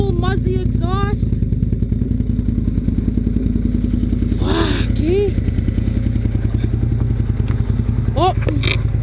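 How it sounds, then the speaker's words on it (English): A Kawasaki 800R motorcycle fitted with a full Muzzy exhaust roars loudly and up close, its engine a continuous deep, pulsing drone throughout, with brief clatter and thuds and a short spoken word over it. "full Muzzy exhaust"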